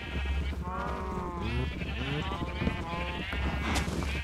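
Sheep in a Minecraft game bleat repeatedly in wavering cries over steady background game noise, close and fairly loud, with no speech.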